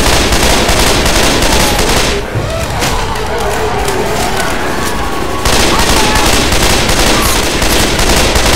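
Shotgun fire in the video game Left 4 Dead 2, Dead Air terminal survival map, rapid loud overlapping gun blasts with a short lull in the middle.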